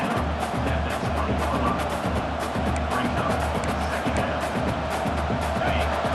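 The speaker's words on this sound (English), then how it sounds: "And here comes the noise. This crowd is trying to inspire this defense to make a big red zone stop." Stadium crowd in a college football video game swells into a steady, dense roar during a red zone defensive stand, a broad wash of noise with faint cheering beneath it.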